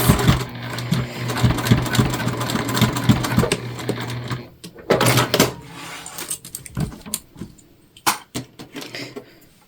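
A home sewing machine stitches a seam on a tote bag in a few close bursts of whirring, fast-ticking motor noise, stopping and restarting with short pauses and handling clicks between runs.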